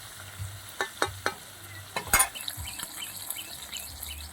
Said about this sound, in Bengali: এইভাবে আমি লাল লাল করে মাছগুলো ভেজে নেব।